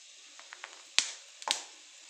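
Cumin and mustard seeds crackle in hot tempering oil with peanuts for lemon pulihora: a faint, steady sizzle broken by a few scattered small pops and two sharper, louder ones close by.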